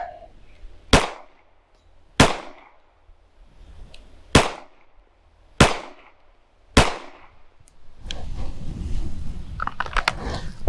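Five sharp pistol gunshots at a dot target, evenly spaced about a second apart and loud and close, followed by a burst of rustling handling noise.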